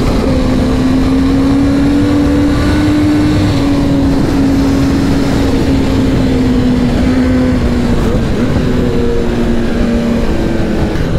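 A Kawasaki ZX10R motorcycle roars loud and constant as it is ridden, its engine note rising and falling gently, with no talk over it.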